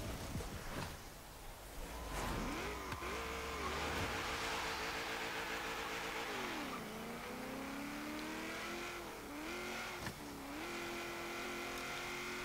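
A 1953 Chevrolet Corvette with an original 2-speed gearbox, racing an autocross course in Forza Horizon: a loud, steady engine roar rising and falling in pitch as it revs and shifts, with occasional tire squeal.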